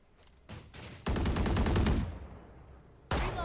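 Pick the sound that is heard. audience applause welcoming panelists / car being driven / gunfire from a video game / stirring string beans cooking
gunfire from a video game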